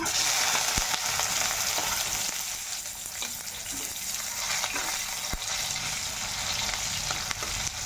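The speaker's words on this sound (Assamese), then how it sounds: "পিঁয়াজখিনি ৰঙা হোৱালৈ ভাজিম।" Onions fry in mustard oil in a kadai, giving a steady close sizzle with bubbling and a few sharp clicks of stirring, loud at first then settling slightly, with no talking.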